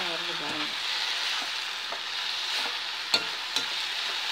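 Ingredients for mint chutney stir-fry in a pan, a steady close hiss and sizzle with a few light clinks of the spoon against the metal.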